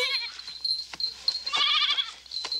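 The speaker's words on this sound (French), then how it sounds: "Tu es une vilaine chèvre." A goat bleats in repeated wavering cries, fairly close and clear, with a few short sharp noises between calls against a quiet outdoor background in an alpine pasture.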